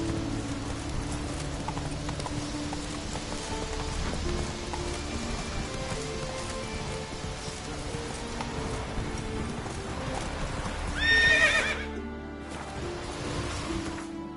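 Roach the horse gallops in The Witcher 3, hooves clip-clopping in a steady fast rhythm under faint rain. A brief whoosh swells near the end, then the hoofbeats cut out into near silence.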